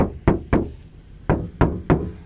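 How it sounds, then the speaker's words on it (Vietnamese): Knuckles rap on the thin sheet-metal door of a 2016 Ford Ranger XLS pickup, giving six sharp, hollow knocks in uneven groups, close and clear with no talk over them. "Này, em gõ cửa đây các bác nè."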